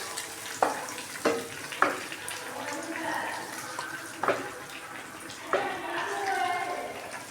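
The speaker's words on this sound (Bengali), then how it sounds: "তো আমি ডিমগুলা ভালো করে ভেজে" Carp roe frying in a hot pan, a soft continuous sizzle with several sharp clatters of stirring or scraping spaced through the clip, fairly close with no talk.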